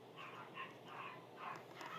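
Dogs yip and bark faintly in the distance, a few short, soft bursts spread across a couple of seconds over a quiet background.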